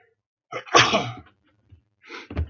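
One loud, close sneeze bursts out with a sharp intake and explosive release, followed by a brief quieter sniff or exhale.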